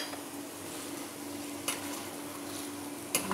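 Green chili and kasuri methi being stirred into mutton masala, a steady soft sizzle from the pan with two brief scraping clicks of the spoon, close and alone with no talk.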